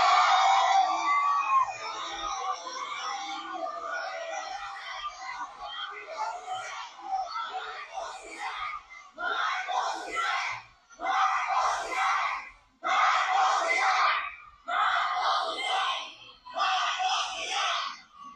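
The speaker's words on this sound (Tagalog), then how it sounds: "Marcos resign. Yan yung sigaw ng mga taga Davao" Crowd in Davao shouting "Marcos resign", starting as a dense roar of many voices and settling into rhythmic, repeated group chants, loud and sustained, in bursts about a second apart.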